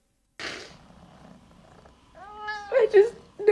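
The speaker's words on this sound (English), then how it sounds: "I can hear cats purring, meowing." A house cat gives a soft, breathy purr, then several loud, close meows rising and falling near the end, with a voice briefly present.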